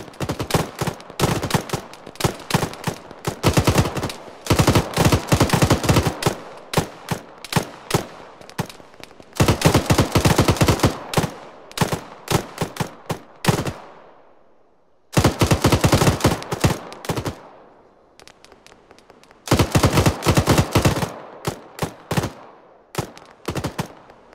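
Gunfire in the Arma 3 video game: loud, close bursts of rapid automatic fire alternating with single shots, separated by short silences and fading tails, with no talk over them.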